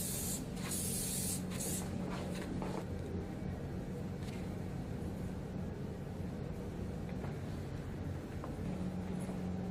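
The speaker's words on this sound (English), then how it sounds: "I'm just going to finish with the fixing mist, which again just adds another layer of condition to the hair." A conditioning fixing mist hair spray is sprayed over a blow-dried hairstyle in short hissing bursts near the start, with a hair dryer or steady background hum running underneath throughout.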